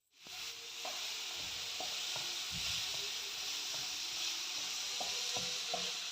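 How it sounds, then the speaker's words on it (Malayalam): Finely chopped plantain frying in ghee in a frying pan: a loud, even hiss of sizzling fat starts abruptly and holds steady, with faint occasional pops and stirring taps. "ഫ്രൈ പാന വെച്ച് കൊടുക്കുന്നു നെയ്യ് ഒഴിച്ചു കൊടുക്കുകയാണ് ചെറുതായിട്ട് പൊടിയായിട്ട് അരിഞ്ഞെടുത്തിട്ടുണ്ട് നമ്മുടെ നേന്ത്രപ്പഴം വെച്ച് കൊടുക്കാം"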